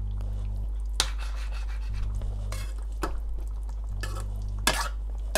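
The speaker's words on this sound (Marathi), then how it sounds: "थोडा याला एक शेक देतन मी म्हणजे थोडंसं हलवीतन" Spicy chicken curry being stirred in a pan, with repeated scraping strokes and utensil clatter against the metal over a steady low hum, several sharp clinks standing out near and fairly loud, no talking.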